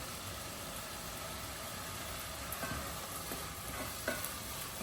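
White wine deglazing a leek and pancetta risotto pan, giving a steady, even sizzle and bubbling with faint stirring clicks near the end, no voices.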